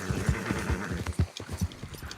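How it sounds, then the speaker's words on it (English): In Red Dead Online, a horse's hooves clop in a steady, rhythmic trot that draws nearer, fairly close and moderately loud, with no talking over it. "Horse comes from out front."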